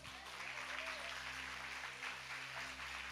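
A church congregation applauds in a steady wash of clapping heard from a distance, sustained and even throughout with a low hum underneath.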